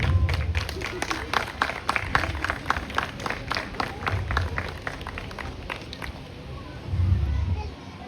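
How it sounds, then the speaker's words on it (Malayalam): Audience at an outdoor Onam celebration breaks into a burst of steady applause, sharp claps repeating densely across the stretch while voices murmur underneath and a louder swell of crowd noise rises near the end. "ഒരു നല്ല കൈയടി."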